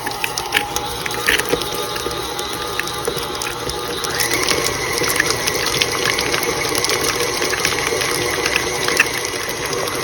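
A stand mixer with a paddle attachment beats cream cheese for cheesecake cupcakes, a steady close mechanical whir with rattling gear clicks that grows a little louder partway through and runs on without talk.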